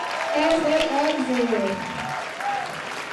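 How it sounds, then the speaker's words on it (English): Audience applause at a cotillion and beautillion scholarship awards ceremony as the young ladies leave the stage, steady clapping throughout with a voice speaking over it. "Let's give them a round of applause as they exit."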